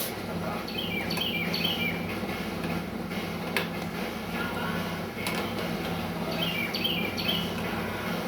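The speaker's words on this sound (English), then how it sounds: "That bird's loud." Bird calls chirp repeatedly in short bursts over a steady low hum, moderately loud, with faint background activity.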